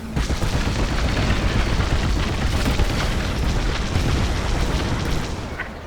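A sustained, roaring explosion as a station's communications dish is destroyed in the space-combat game Star Wars: Squadrons, loud and dense throughout, with crackling bursts layered over a heavy continuous rumble.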